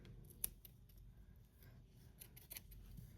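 Scissors snipping through crochet yarn while fastening off a crocheted drawstring bag, a few faint, close, brief cuts over quiet room noise.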